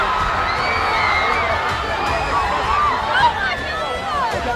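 A large crowd of about 5,000 fans pressing together, a dense continuous hubbub of voices with scattered shouts, whoops and cheering, loud and close all around.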